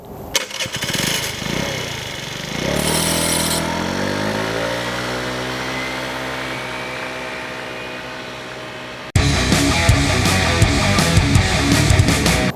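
A Mondial 50 ZNU motorcycle's small engine starts and revs with a rising pitch, settles into a steady drone, then shifts into a louder, rougher run near the end. It is heard alone, with no voices.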